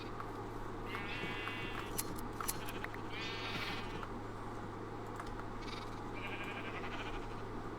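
Sheep bleat in a colony-building video game, several short wavering calls repeating against a steady low electronic hum, fairly quiet, with no talking.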